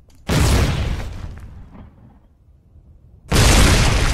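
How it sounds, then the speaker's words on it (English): A mortar in the World War II video game Foxhole fires with a loud, broad blast, then after a few seconds of fading rumble a second heavy boom follows, close and with no talk. "Okay, we're going to launch a mortar on here."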